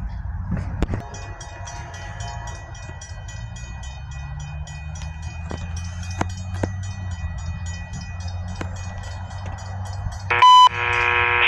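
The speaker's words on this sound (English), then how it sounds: "We got CSXP 932, the Amtrak Acela set, coming eastbound." Amtrak Acela trainset running eastbound on a CSX line at Trabold Road, a moderate rumbling pass with tonal whine and sharp clicks from the rails, then a brief loud electronic tone near the end.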